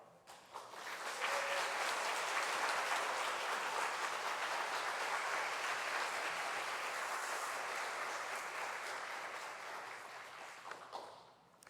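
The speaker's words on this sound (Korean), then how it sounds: "우리 크게 환영의 박수하고" A church congregation at a Friday mission prayer meeting applauds to welcome the visiting pastor: steady, full clapping that swells quickly, holds evenly for about ten seconds and then tapers off, with no talk over it.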